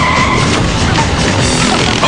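Race cars skid and squeal through a race, a loud, dense roar of engines and tires that runs continuously with no talk.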